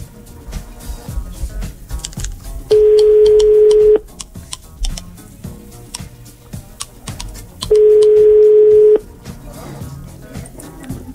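A telephone line being called on a radio morning show gives two long, steady ringing tones separated by a pause, loud and clear over faint studio background noise.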